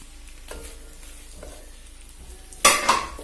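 Beans and carrots fry in ghee for a vegetable biryani, a low sizzle with a few spoon scrapes, then a louder burst of stirring and crackle toward the end.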